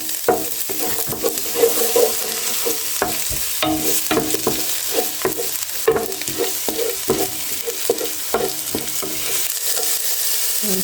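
Fried rice sizzles in a pan as a utensil stirs and scrapes it in repeated short strokes, close and fairly loud, with no talking.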